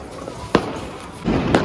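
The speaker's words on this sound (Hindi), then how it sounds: "फुल आतिशबाजी चल रही है यहाँ सब जगह।" Fireworks burst outdoors during an evening in Gujarat, with two sharp bangs about a second apart rising over a steady background hum.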